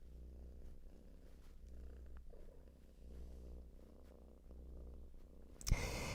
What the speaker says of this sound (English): Can you hear her purring, guys?